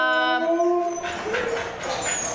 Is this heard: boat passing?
no